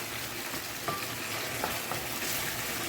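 Baked beans go into a hot pan with banana, lemon juice and salt fish, bringing a steady sizzle and frying hiss with a few soft wet splats and clicks along the way.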